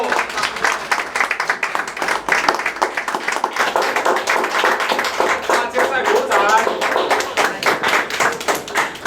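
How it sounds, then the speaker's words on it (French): Audience at a French restaurant awards ceremony clapping steadily for a trophy winner, a dense, lively round of applause with a few voices mixed in. "Bravo à vous, on peut l'applaudir très fort."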